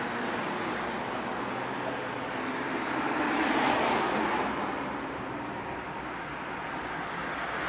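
A large Daimler bus engine idles and runs steadily with a low rumble and broad hiss, swelling slightly midway before settling again; no one speaks.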